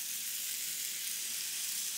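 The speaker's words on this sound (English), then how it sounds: "And you can hear the sizzle starting." Kale sizzling in oil and added water in a pan, a steady, bright hiss of frying that stays even and close throughout, with no voices.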